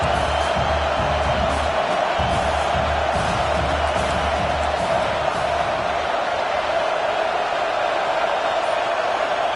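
Stadium crowd at a Florida vs Clemson college football game, a loud, dense, continuous roar of cheering and shouting filling the whole stretch with no break or lull.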